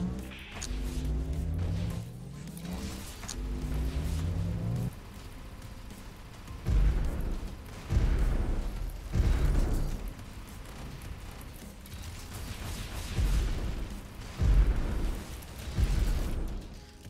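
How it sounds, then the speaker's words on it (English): Nuclear cannon blasts striking an alien core in the XMorph Defense video game, a sequence of loud, booming explosions that rumble and burst repeatedly over a dense, continuous game soundscape. "Load the nuclear cannon. Target the alien core."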